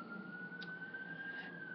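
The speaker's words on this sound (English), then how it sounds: "And, of course, another ambulance." An ambulance siren sounds in the background, a steady wailing tone that holds at moderate level throughout, with the swell of passing traffic beneath it.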